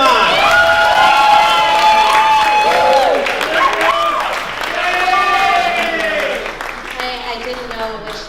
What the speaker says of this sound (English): I want you guys to give a big round of applause for Becca Barnum